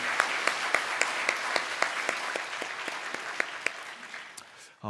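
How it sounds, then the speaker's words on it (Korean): A church congregation applauds its youth group during a special dawn prayer service, steady rhythmic clapping with distinct individual claps standing out, fading slightly toward the end. "우리 다시 한번 우리 청년부 박수로 축복해 주시기 바랍니다"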